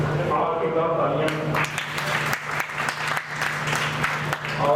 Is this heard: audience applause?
yes